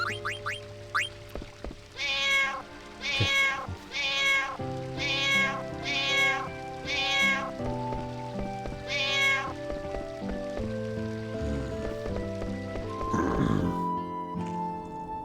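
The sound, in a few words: cat meowing in Final Fantasy IX video game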